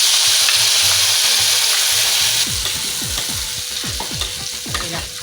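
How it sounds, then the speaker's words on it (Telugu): Ground masala gravy for a Hyderabad-style paneer curry sizzles loudly in a pan while a spoon scrapes and stirs it in a quick repeated rhythm, the hiss steady and close with no talk. "ఇలా అడుగు అంటకుండా ఒక 10 నిమిషాల పాటు గ్రేవీ దగ్గర అయ్యే వరకు తిప్పుతూ ఉండాలి."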